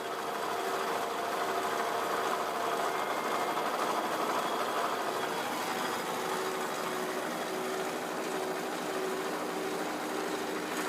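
A Willys CJ2A jeep engine runs steadily at idle to drive a Koenig winch, a constant mid-pitched drone with a light rattle throughout.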